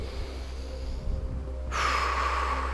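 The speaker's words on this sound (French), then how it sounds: "Et on inspire." A deep breath drawn in during a Five Tibetans movement routine, a long airy inhalation heard close over a steady low hum, swelling louder toward the end.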